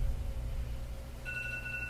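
A phone rings with a steady electronic tone that shifts to a higher double-tone partway through, fairly close and alone without talk, against low room rumble.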